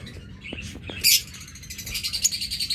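A pair of caged birds for sale gives short, high chirps and tweets, first a few scattered calls and then a quicker run of bright chirping, close and fairly quiet.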